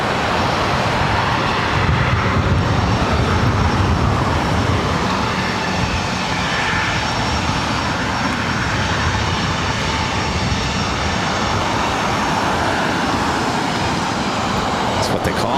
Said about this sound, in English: This is United Express 4633 coming in from Boise on a CRJ 700 ER.